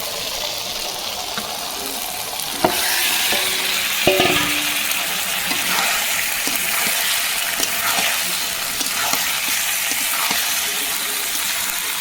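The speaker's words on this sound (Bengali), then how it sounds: "মশলাটা পুরো তেল ছেড়ে দিয়েছে এখন আমি মাংসটা দিয়ে দেব" Meat dropped into hot spiced oil in a pan, giving a steady, loud sizzling hiss with a few clatters and stirring bursts throughout.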